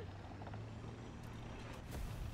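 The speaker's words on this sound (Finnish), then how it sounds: "Hävittäjä ilmassa." A fighter jet in the video game War Thunder roars steadily overhead, a dense rumbling engine drone with no pauses or voices.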